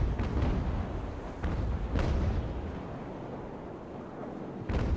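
Ship cannons fire in the naval game Ultimate Admiral: Age of Sail, several heavy booming blasts with rumbling tails rolling under a constant background of wind and sea noise.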